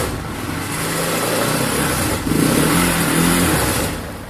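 A 2018 Happy Motorcycle 200cc three-wheeled motorcycle engine idles steadily, then revs up in a rising swell before settling, heard close with no talking.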